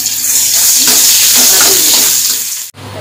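Chopped onion dropped into hot oil with garlic for a tempering, a loud, close sizzle that swells and crackles for a few seconds before cutting off abruptly near the end.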